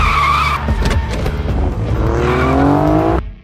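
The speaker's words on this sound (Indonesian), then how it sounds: "Dia pun dengan cepat menginjak pedal gas dan mulai menghindari pengejaran dengan mobilnya." A car tears away during a chase with screeching tires and an engine climbing in pitch, loud and close for several seconds before cutting out suddenly.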